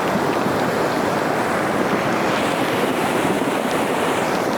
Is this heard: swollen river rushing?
yes